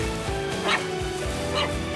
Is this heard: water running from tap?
no